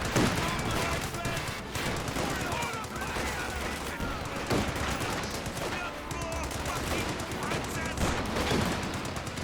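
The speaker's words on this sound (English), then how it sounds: "Rifle grenade fired. Good hit there." A rifle grenade fires in a World War II battle in the strategy game Company of Heroes 2, buried in a dense, continuous clatter of game gunfire and explosions, with a commentator talking throughout.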